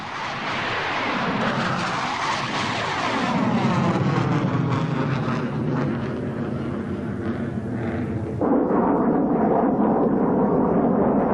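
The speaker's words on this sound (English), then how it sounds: "Guided by radar, the MiGs head for home." MiG-23 Flogger fighter jets carrying bombs and cluster dispensers fly overhead, a loud continuous roar with a sweeping pitch shift as they pass, then a steady powerful jet drone that jumps louder near the end.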